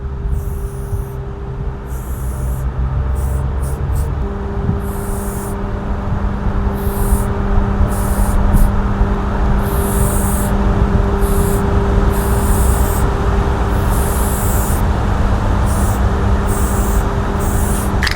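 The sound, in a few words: spray paint can spraying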